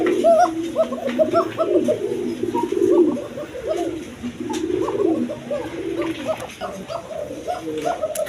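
A thick-beaked Danish female pigeon coos in rolling, repeated low calls with other pigeons around, close and steady, joined by a faint dog-like bark.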